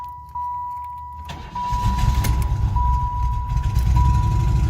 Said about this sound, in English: I want to turn my engine back on